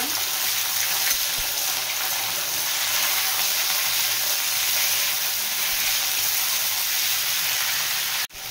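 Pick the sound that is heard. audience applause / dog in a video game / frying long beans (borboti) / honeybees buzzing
frying long beans (borboti)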